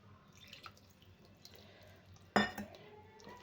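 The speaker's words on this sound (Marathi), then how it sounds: "मी याच्यात थोडंसं पाणी घालते" Water is poured into a bowl of thick batter for a South Indian dish, a short splashy pour arriving suddenly after faint kitchen clinks and drips, loud and close, then fading quickly.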